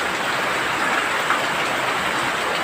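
Steady rain pours down, a dense, even hiss with no pauses throughout.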